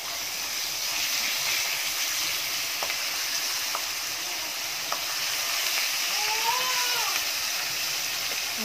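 Meat sizzles steadily in a hot pan with garlic, a continuous close frying hiss with faint occasional pops and scraping, no talk over it.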